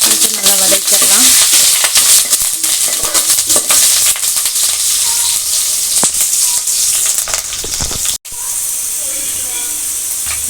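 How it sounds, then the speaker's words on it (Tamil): Onion, curry leaves, cinnamon and chili sizzle and fry in hot oil with mustard and fenugreek seeds, a steady close crackling hiss stirred now and then, with one short break near the end. "பட்டை மிளகா, கொஞ்சோண்டு வெங்காயம், கருவேப்பிலை கொஞ்சம் நல்லா வதக்கிடலாம்."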